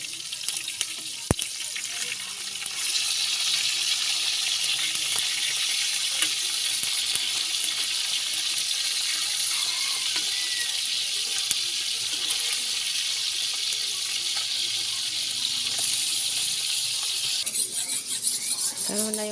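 Fish sizzles and fries in a pan with a steady, dense hiss and crackle that carries on throughout, fairly close and moderately loud, with occasional small pops and a livelier burst near the end.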